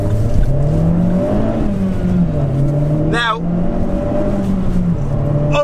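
Vauxhall Corsa VXR hatchback driving, its engine a steady drone from inside the cabin with pitch rising and falling through gear changes, while a voice talks over it.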